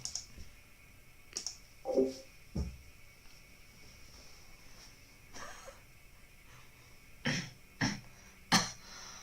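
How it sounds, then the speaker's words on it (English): A few faint, scattered coughs in a quiet room, with a quick run of three near the end and some light clicking between them. "God, my cough is bad."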